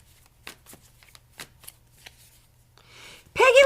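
Tarot cards are handled and drawn from a shuffled deck in a quiet room, with soft separate flicks and slides of card stock, then a brief burst of talking at the end.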